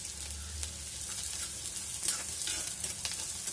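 Chopped onion sizzling in hot oil in a pan until reddish, a soft continuous crackle broken by occasional stirring scrapes, heard close and fairly quiet with no voices.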